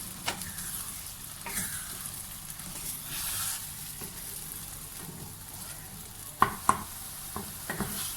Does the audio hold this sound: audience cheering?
no